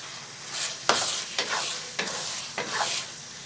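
Pethe halwa sizzles in a pan while a spoon stirs it in about five rhythmic scraping strokes, close up and fairly loud, with no voices.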